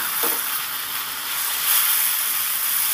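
Fried potatoes stirred into a sizzling spice paste in oil in a pan for fish curry, a steady loud frying hiss throughout with a faint scrape early on.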